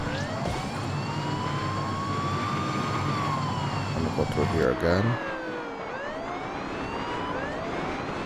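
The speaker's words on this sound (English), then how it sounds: "Ooh, sirens." Wailing police sirens rise and fall continuously over busy game sounds and engine noise in the racing game Beach Buggy Racing 2, with a person talking over them.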